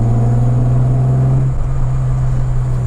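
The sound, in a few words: Mazda V6 engine in a Ford Escort XR3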